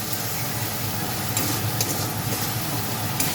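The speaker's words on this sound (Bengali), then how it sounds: "আমি মশলাটাকে ভালো করে কষিয়ে নেব" Bengali masala paste with turmeric and a splash of water sautéing in a pan for a katla fish curry with cauliflower: a steady close sizzle with scattered soft crackles and taps.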